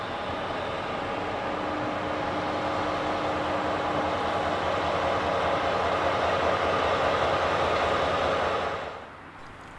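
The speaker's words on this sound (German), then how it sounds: "Hier kommt schon der Zugteil aus Hof." A train section arriving from Hof on the Alex Nord line rolls into a station for coupling, a steady loud rumble with a faint squealing tone that holds for about nine seconds, then abruptly drops away.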